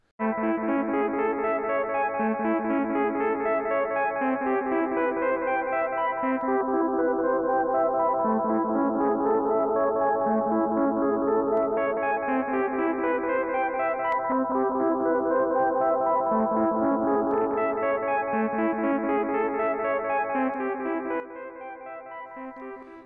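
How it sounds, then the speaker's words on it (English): A repeating instrumental phrase fed through a Moog Moogerfooger 104M analog delay, echoes trailing each note, the tone shifting between its dark and bright settings over about twenty seconds. "just to show the difference between the dark and the bright settings on the Moogerfooger"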